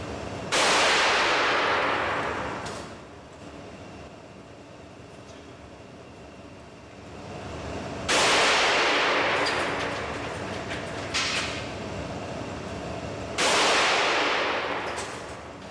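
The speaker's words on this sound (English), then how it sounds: "Three shots were fired, and the glass was not penetrated, thanks to Glass Sentinel." .357 revolver shots fired at half-inch glass treated with 12mm security film, three sharp loud blasts spaced several seconds apart, each followed by a long ringing decay, with no talking.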